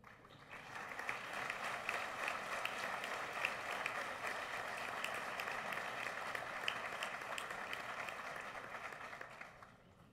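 An audience in a solemn university anniversary ceremony in Costa Rica applauds a distinguished group of students, a fairly faint, even wash of many hands clapping that holds for about ten seconds before tapering off.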